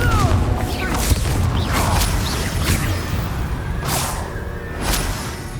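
Confringo blast spells cast repeatedly in Hogwarts Legacy, a run of booming whooshes and crackling impacts over a few seconds, loud and dense with overlapping bursts.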